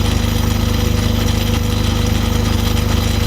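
A Myford ML7 lathe runs steadily with the feed engaged while screwcutting, giving a constant loud mechanical drone with a fast, even chatter throughout.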